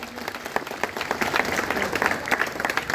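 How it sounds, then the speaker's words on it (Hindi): A crowd claps for the winner of a treasurer election, brisk dense applause with some individual claps standing out, close and loud, with voices in the background. "मैं चाहूंगा आप लोग ताली बजा दें उनके लिए"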